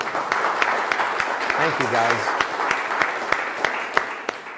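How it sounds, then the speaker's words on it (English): An audience at a town hall applauds Marines with a brisk, dense patter of clapping that runs throughout, while someone speaks briefly over it. "Can we give the Marines a round of applause?"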